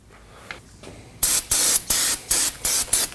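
Aerosol brake cleaner sprayed onto a brake rotor of a 2015-2022 Chevrolet Colorado, about six short, loud hissing bursts in an even rhythm following a quieter stretch, close by and without talk.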